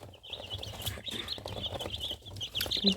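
Chicks four days old, raised as broilers, peep in a steady stream of high, thin calls that continue throughout, close and fairly loud, over a low background hum.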